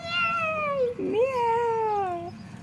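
A person imitates a cat meowing with a single drawn-out, wavering meow, loud and close, followed by a rising second yowl.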